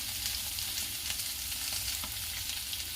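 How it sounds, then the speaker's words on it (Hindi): Potato pieces fry in a pan with salt and turmeric while an aloo matar curry is being made. The close sizzle is steady and even, with light crackles and no voices. "आलू को भून दूंगी और इसमें 1 चम्मच नमक डाल दूंगी और थोड़ा हल्दी"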